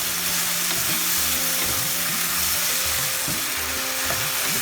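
A paneer bhurji mixture with hot and sour tomato chili sauce fries in a pan with a constant, close sizzle. A spatula scrapes and stirs through it in a repeated rhythm. There is no talking.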